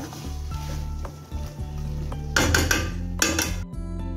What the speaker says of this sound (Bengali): এখানে চিকেন ফ্রাই হচ্ছে